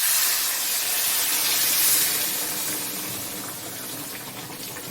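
Hot water poured into a mutton fat and jackfruit curry in a pan, giving a steady broadband hiss and bubbling sizzle that stays loud throughout, no voices.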